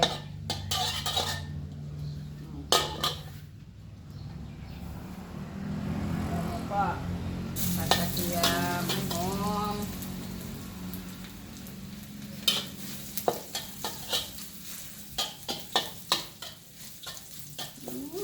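Shallot flowers stir-fried with egg in a pan with pork fat, a steady sizzle under scraping and clinking of the spatula against the pan, with a voice talking over part of it.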